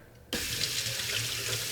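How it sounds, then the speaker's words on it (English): Cold tap water gushes steadily from a faucet to rinse a microneedling roller at home. It starts abruptly after a short silence and runs as a close, even hiss. "you just need to rinse it with cold water"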